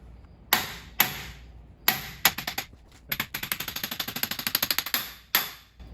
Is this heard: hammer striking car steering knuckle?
yes